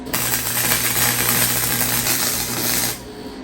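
Welder running a steady bead on a trike frame: a continuous loud crackling, sizzling hiss with a faint hum underneath, lasting about three seconds before it abruptly stops.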